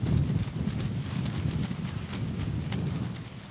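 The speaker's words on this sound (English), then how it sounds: "When it got so windy." Steady wind roars and buffets the microphone, a broad rushing noise with occasional gusts, and no voices.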